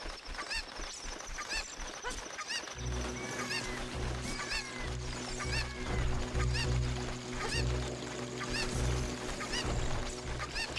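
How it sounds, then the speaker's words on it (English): A cuckoo chicken clucks in The Legend of Zelda: Ocarina of Time 3D, repeated short clucks over game music and ambient sound effects, moderately loud and steady. "Chicken noises."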